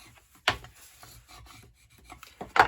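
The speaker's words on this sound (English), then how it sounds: "I'm burnishing and making sure this is all stuck down really well." A bone folder burnishes a paper gift box, giving dry rasping rubs with two sharp louder strokes and softer scrapes between, close and quiet, with no talking.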